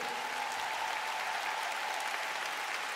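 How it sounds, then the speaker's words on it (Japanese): Concert audience in Kobe applauding after a live ice show performance, a continuous broad wash of clapping from a large crowd held at an even level, somewhat distant, with no voices on top. "今一度大きな拍手を。"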